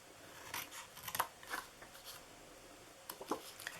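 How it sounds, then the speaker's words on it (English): Scissors snip through paper while a St. Patrick's Day treat box is cut out by hand: a handful of short, crisp cuts in quick bursts, close and fairly quiet, with no talking. "So we're going to cut down on here."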